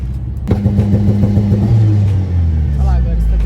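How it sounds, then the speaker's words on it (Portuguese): A turbocharged pickup truck engine revs up hard from idle, a loud, close rumbling roar that climbs and holds, with pulsing rhythmic throb and a brief voice underneath. "Então eu vou dar uma acelerada com você aqui, ó."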